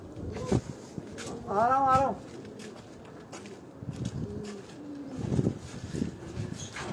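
A pigeon gives a soft, rolling coo on a rooftop loft in Karachi that keeps Kabli, high-flying and Aseel pigeons, with someone talking nearby and faint rustling and footsteps around the birds.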